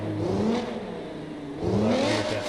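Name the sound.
car engine starting and revving in video game BeamNG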